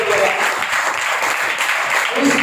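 A congregation at a worship service claps in a brief burst of dense, close applause mixed with crowd noise.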